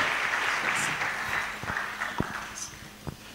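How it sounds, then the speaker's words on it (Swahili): Congregation in a church service applauding for the Lord, a broad wash of hand claps fading gradually, with a few sharper isolated claps and a faint voice near the end. "tumchapie tena Bwana makofi na nguvu"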